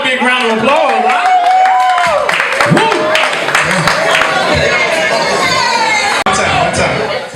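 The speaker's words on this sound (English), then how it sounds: "Let's give her a big round of applause." A party crowd at a birthday celebration claps, cheers and chatters loudly and steadily, with whoops and excited shouts over the din from start to finish.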